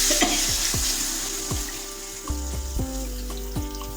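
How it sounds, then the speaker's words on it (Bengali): Water poured into a wok of vegetables seasoned with turmeric and chopped green chilli, a steady hiss of cooking with repeated clinks and scrapes of a utensil roughly every half second, close and alone. "এখন আমরা কড়াইয়ের উপর যোগ করতে পরিমাণ মতো জল।"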